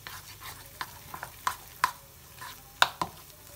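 Onion and spices being mixed into besan batter with a spoon, a soft run of scrapes and a few sharper clinks against the bowl, close and fairly quiet with no talk.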